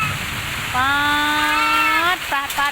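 Heavy rain driven by strong wind pours down over flooded rice fields in rural Thailand, a steady broadband hiss running throughout while a voice speaks in long drawn-out tones over it.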